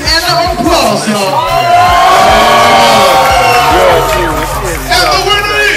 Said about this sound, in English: Let me get the screams and the applause, y'all.